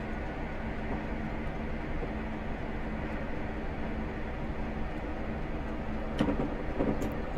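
A Class 37/4 diesel locomotive running between Mallaig and Fort William in Train Simulator Classic: a steady engine drone and rolling rumble throughout, with a couple of faint clicks near the end.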